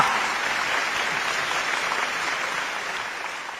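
A crowd of spectators gives loud, continuous applause, a thick wash of many hands clapping that holds steady and only eases slightly toward the end.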